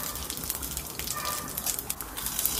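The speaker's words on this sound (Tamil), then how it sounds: "எண்ணெய் சூடானதும் தாளிப்புக்கு கடலைப்பருப்பு, கடுகு, உளுத்தம்பருப்பு, கொஞ்சம் ஜீரகம் இதெல்லாம் தாளிச்சிடலாம்." Chana dal, mustard seeds, urad dal and cumin tempering in hot oil give a dense, steady crackling sizzle, close by and continuous, with no voices.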